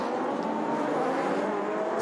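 Mazda cars in a 2018 Improved Production race at Hidden Valley pull away from the start with some wheel spin, heard as a steady, moderately distant engine roar with light tire noise.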